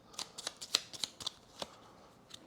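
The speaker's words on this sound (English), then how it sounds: "we shuffle another one of our clue cards and get rid of it" Clue cards for a board game are shuffled by hand, producing a quiet series of crisp, irregular card snaps and flicks close to the table.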